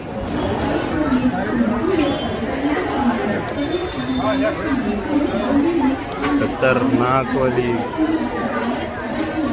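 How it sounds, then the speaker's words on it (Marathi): Dense crowd chatter fills a busy, packed spot in Badlapur, a steady hubbub of many overlapping voices with someone talking close by over it. "गर्दी आहे."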